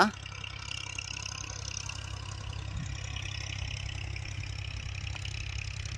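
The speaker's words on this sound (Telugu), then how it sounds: "ఇక్కడ మోటార్తో డీవాటరింగ్ జరుగుతూనే ఉంది" A steady mechanical engine drone runs throughout, a motor pump dewatering floodwater at a tower site, humming at a constant pitch with no breaks, moderately loud against faint background noise.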